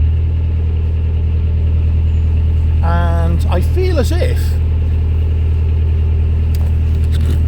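A narrowboat engine drones steadily and loudly on a winter canal run between Kidsgrove and Congleton, a constant low hum throughout, with someone talking over it.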